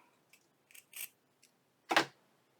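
Scissors make a few small snips followed by one louder, crisp cut, each short and close with quiet pauses between.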